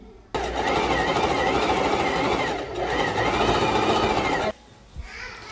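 A sewing machine runs a tight overlock-style finishing stitch on fabric, a loud, fast, steady mechanical whirr close by for about four seconds before stopping abruptly.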